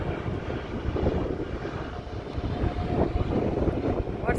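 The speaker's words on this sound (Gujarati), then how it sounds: "અને એકદમ જોરદાર પવન પણ છે." Strong wind buffets the microphone outdoors on a cool, rainy day in Canada, making a steady, rough, low roar that swells and eases throughout.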